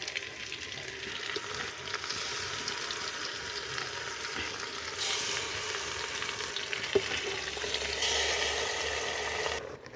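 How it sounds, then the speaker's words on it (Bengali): Marinated chicken pieces hitting fried potatoes in a pan over a wood fire, a loud steady sizzle with stirring scrapes throughout, swelling in bursts before cutting off at the end. "আলুগুলো ভাজা হয়ে গেছে, এবার মাংসটা দিয়ে দিই।"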